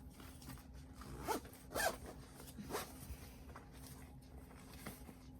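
A zipper on a sewn Pandora bag is pulled closed in a few quick, close raspy strokes with brief pauses between them. No one talks over it.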